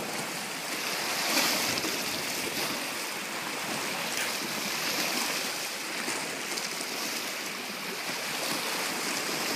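Ocean waves wash steadily at Active Pass off Mayne Island on the Strait of Georgia, a continuous broadband surf and water rush with gentle swells in loudness, no voices present.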